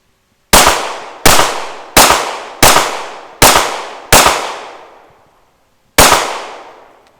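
A Remington R51 pistol fires seven sharp, loud shots, six in a quick, fairly even string and then a final shot after a pause of about two seconds, each cracking and ringing away outdoors.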